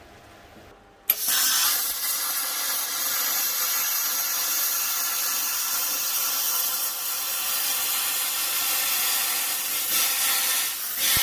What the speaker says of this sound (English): here's the trusty plasma cutter to cut round them